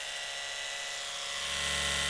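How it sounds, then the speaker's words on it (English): An electric toothbrush buzzes steadily and close up, a dense high-pitched whine that grows slightly louder toward the end, with no voices. "we are having my toothbrush right here"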